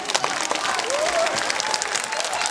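An elementary school morning assembly audience claps for girls on stage in a brief, steady burst of applause from a crowd, close and even.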